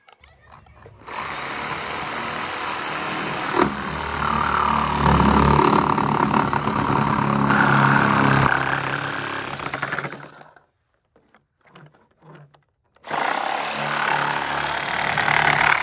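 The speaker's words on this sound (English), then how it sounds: "you can just use a reciprocating saw, and that'll just cut right through this nice and clean." A reciprocating saw cuts through a vinyl fence in a loud, rasping burst lasting about nine seconds, then breaks off into near silence with a few faint knocks before the saw starts up again.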